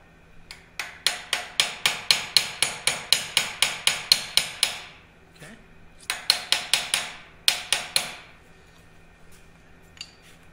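A hammer taps the sheet metal edge of a floorpan into place on a 1967 Kaiser Jeep M715, giving a fast run of sharp, ringing metallic blows, then two shorter bursts after a pause, close and without talk.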